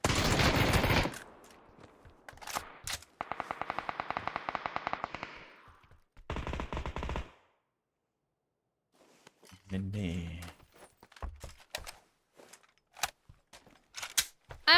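Video game gunfire in bursts: a rapid automatic volley, single sharp shots and a later scattered exchange, with players talking between the shots.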